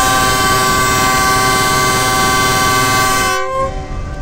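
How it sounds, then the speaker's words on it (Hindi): Millat Express train departing with a GU40 American-built diesel locomotive, a loud sustained horn blast with steady harmonic tones running close and continuous, cutting off near the end as rumbling rail noise remains. "तो आपको मिलत एक्सप्रेस का डिपार्चर व्यू दिखाते हैं और अभी आप इसके साउंड को"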